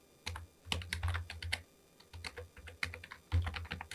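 Quick, dense typing on a computer keyboard while entering HTML and CSS code, close and crisp with irregular bursts of clicking keys and brief pauses, no voice.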